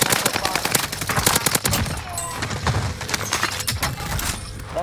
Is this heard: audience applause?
no